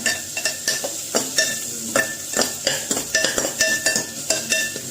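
Ginger and garlic sauté in a pan for a calcium-rich drumstick soup, a spoon scraping the metal in a steady, repeated rhythm over a light sizzle, close and fairly loud.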